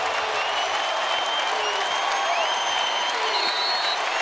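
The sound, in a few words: basketball arena crowd cheering in Louisville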